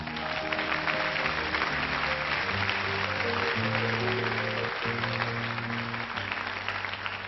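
A television studio audience claps warmly for a little girl about to sing, a dense, even wash of applause lasting several seconds, with music playing underneath.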